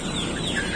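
Joper chickens on a poultry farm clucking in a short, busy burst, several birds close by with no talk over them.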